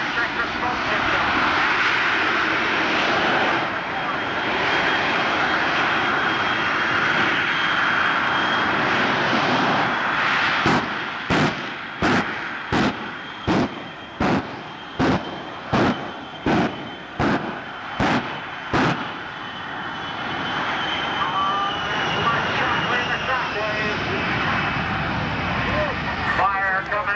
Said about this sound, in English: Les Shockley winding up the three jet engines